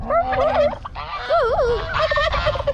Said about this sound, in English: Here's our turkeys